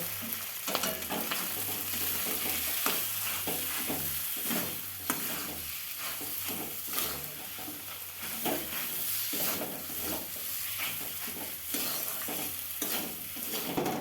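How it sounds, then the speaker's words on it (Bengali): Potatoes sauté in a pan with turmeric, coriander powder and garam masala, a constant sizzle broken by repeated scraping stirs of a spatula, close and steady with no talk. "এরপর আমি আলুটা ভালো করে কষিয়ে নেব।"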